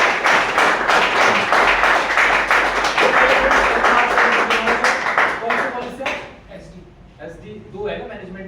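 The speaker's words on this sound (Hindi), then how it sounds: "एक बार जोरदार तालियां अमन जी के लिए" An audience claps loudly for Aman ji at a business plan presentation, a dense burst of applause lasting about six seconds before thinning into scattered claps and quieter room noise.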